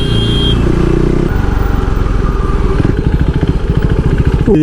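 A motorcycle rides along a dark road at night, its engine a loud, close, steady drone with a rhythmic pulsing throb and some clatter throughout.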